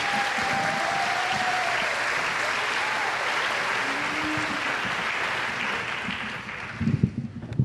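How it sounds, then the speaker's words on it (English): A pageant crowd at a dairy festival gives a sustained round of applause, even and full for most of the time, then tapering with a few louder claps near the end. "One more round of applause for all of them"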